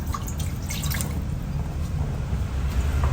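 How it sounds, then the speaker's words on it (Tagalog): A glass of water splashes and trickles into a pan close by, a soft steady pour with a few drips, and no talking. "Una, ilagay natin ang isang basong tubig."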